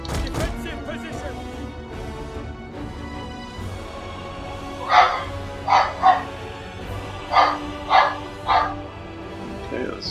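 A dog barks at someone walking past the house, a run of about six sharp, loud barks in uneven pairs after some quieter whimpering, over a low background hum.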